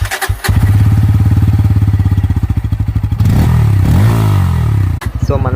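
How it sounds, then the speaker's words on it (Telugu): A 2025 Bajaj Pulsar N160 motorcycle cranks and fires up, then settles into a loud, close, pulsing exhaust idle with a couple of throttle blips before dropping back. "ఇంజిన్ ఆన్ చేసి ఎగ్జాస్ట్ సౌండ్ ఎలాగుందని మీకు"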